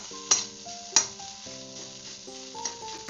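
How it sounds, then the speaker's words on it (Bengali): Bean stuffing with cumin powder sautéed in a pan, a quiet sizzle beneath a few distinct metallic taps and scrapes of a spatula, close by, with no voices. "এবার আমি এটাকে ভালো করে কষিয়ে নেব।"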